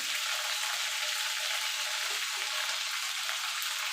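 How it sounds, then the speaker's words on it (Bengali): Nigella seeds fry in hot oil for a tempering, giving a steady, bright sizzle and crackle at close range with no talk. "আমি এই তেলে বাকি রান্নাটা করব তার জন্য ফোড়নো দিয়ে দেবো কালো জিরে"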